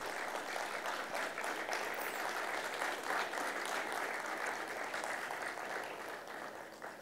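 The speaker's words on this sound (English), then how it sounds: "Please welcome Professor Khanna with a loud round of applause" Sustained audience applause at a law panel event in India, steady and dense clapping from a large crowd throughout, easing slightly toward the end with no talking.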